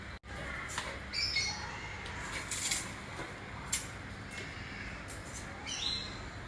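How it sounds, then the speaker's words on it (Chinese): Small birds, likely sunbirds, calling from trees near a Singapore home terrace: a handful of short, sharp high chirps and squawks, fairly faint, scattered over a quiet outdoor hush. "就每天都能听到鸟鸣"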